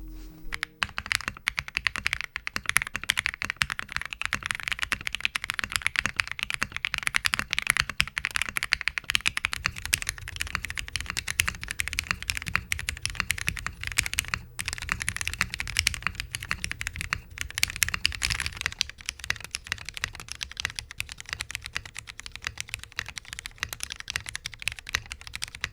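A Tiramisuit mechanical keyboard with PE foam is typed on steadily, a dense run of close, crisp keystrokes continuing throughout with no talking.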